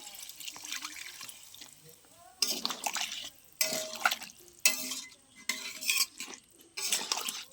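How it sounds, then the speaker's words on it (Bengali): Water added to a curry cooking in a pot, a close burst of pouring and sloshing followed by several stirring scrapes and splashes in separate bursts, no voices. "এবার পরিমাণ মতো জল দিয়ে দেবো।"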